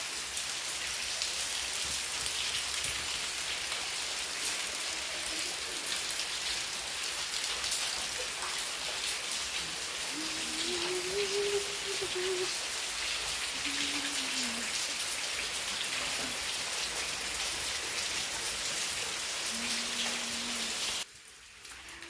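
Heavy rain pours outdoors in Odisha, a loud, even, broadband roar that holds steady for most of the clip. Faint tonal chirps rise above it before the sound drops away near the end.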